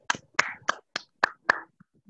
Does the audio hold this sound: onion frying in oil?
no